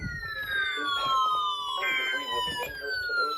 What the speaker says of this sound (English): Dude, are tornado sirens going off?